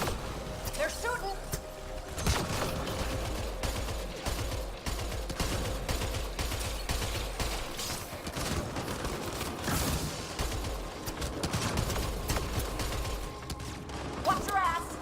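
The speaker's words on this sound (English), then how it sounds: "They're shooting." Rapid gunfire crackles through a busy shooter video game battle, dense overlapping shots and mechanical clatter running steadily across the whole stretch amid other game effects.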